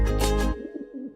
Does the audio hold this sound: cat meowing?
no